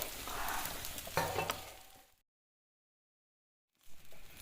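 Rice frying in a pan for Bengali basanti pulao, a close crackling sizzle with stirring scrapes that cuts to silence midway, then resumes briefly.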